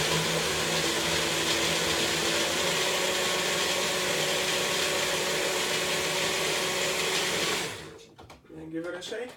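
Blender grinding a spinach banana smoothie with seeds: a loud, constant high-speed whirring roar that runs for several seconds, then cuts off, leaving brief clattering and rattling as the motor stops.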